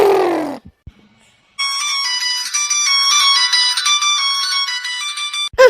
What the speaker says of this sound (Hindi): क्या का फोन बाजे लागा भाई